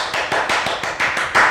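A teacher claps for herself after a Year 1 lesson, about eight quick, sharp hand claps in a steady rhythm, close and fairly loud, with no talking over them.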